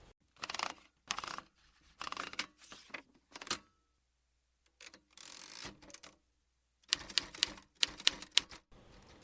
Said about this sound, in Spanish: Vamos a modernizarnos un poco con una máquina de escribir.